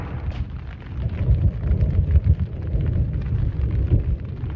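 Big raindrops pelt down hard during a heavy storm at a camp, a dense low rumbling roar with scattered heavy impacts, close and loud throughout.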